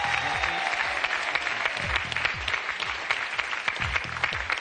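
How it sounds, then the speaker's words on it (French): A studio audience applauding on a French television game show, a sustained burst of many hands clapping at close range, loud and dense with sharp individual claps. "les applaudissements du public"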